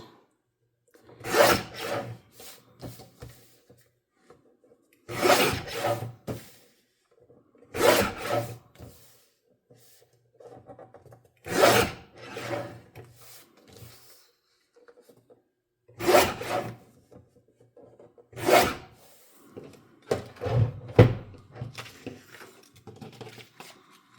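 Scissors cut out a fabric piece for a pillowcase journal cover in bursts of rough snipping and rubbing, about six separate passes with pauses between, close and fairly loud.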